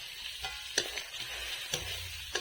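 Prawns and spice masala being stir-fried in a pan give a quiet, steady sizzle, broken by a few soft scrapes of stirring, close and alone.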